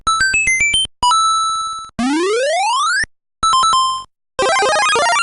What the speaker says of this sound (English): I've got a 1-up, the coin collect sound, the flag at the end of the level